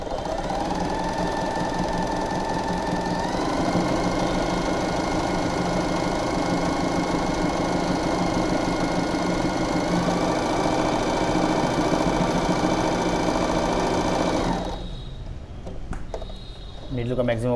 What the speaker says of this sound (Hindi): जैसे जैसे आप मशीन चलाओगे वैसे वैसे कपड़े को खाली गाइड करते रहना है